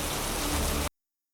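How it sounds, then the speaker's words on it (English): Heavy rain pours in a dense, steady hiss for under a second, then cuts off abruptly to silence. "the clouds broke, and a terrible rain fell, and David walked towards his house, soaked"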